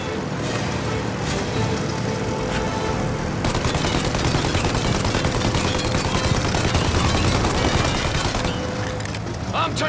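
Dense, continuous gunfire from the video game Mafia: Definitive Edition, rapid bursts and booms layered over engine noise, loud and unbroken throughout.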